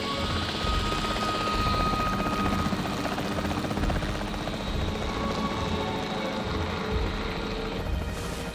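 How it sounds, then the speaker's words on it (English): A capture team helicopter in Jurassic World Evolution 3, its rotor thudding and engine droning loudly and steadily for several seconds, with no talking. "The priority needs to be tranquilizing it with the capture team chopper."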